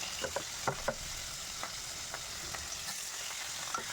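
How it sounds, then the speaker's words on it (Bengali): Fish frying crisp in hot oil in a home kitchen: a steady, faint sizzle broken by scattered sharp pops and crackles, with no voices. "কড়া করে না ভাজলে মাছ খেতে ভালো লাগে না"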